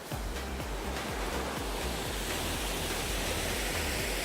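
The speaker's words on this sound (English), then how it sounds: "Just thought I'd show you this really nice waterfall before I start climbing" A waterfall pours into Loch Muick in the Cairngorms, a steady, full rushing roar of falling water heard close and alone, without pause.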